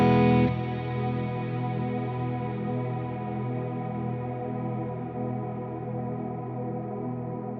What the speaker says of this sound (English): you can hear that it also adds in a bit of a shimmer effect, which I really like